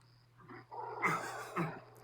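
Dogs fleeing a bear give a few faint, brief growling yelps in the distance over a low steady hum.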